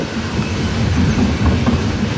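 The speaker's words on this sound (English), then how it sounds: "ethanol train." An ethanol freight train rolls past close by with a loud, continuous rumble and rhythmic clickety-clack of wheels on rail joints, a CP locomotive pushing at the rear near Fremont, Nebraska.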